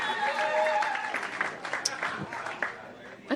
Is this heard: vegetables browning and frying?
no